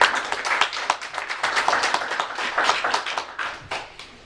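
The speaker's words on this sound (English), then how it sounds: "Can we give them one more round of applause" Students at a school showcase get a round of applause from the audience, distinct individual claps in an uneven rhythm from a modest crowd, fairly close and loud, with no talk over it.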